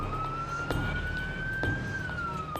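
An ambulance siren wails in a single slow rising-and-falling tone, steady and moderately loud over a constant road rumble.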